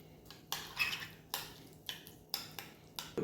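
A spoon clinks softly against a bowl while tartar sauce with capers is mixed, making about seven light, evenly spaced taps over a faint background.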